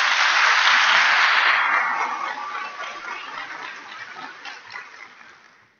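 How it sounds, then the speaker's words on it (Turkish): A seminar audience of financial advisors applauds the head of the tax office, a dense round of clapping that starts strong and gradually thins and fades over several seconds. "Sayın Vergi Dairesi Başkanıma yürek dolusu bir alkış istiyorum sevgili arkadaşlar"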